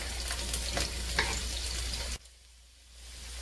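Chopped vegetables, onions among them, sizzle and fry in a pan for a chicken fettuccine with tequila, making a steady close crackle with a few stirring scrapes that stop abruptly, leaving a quieter room hum.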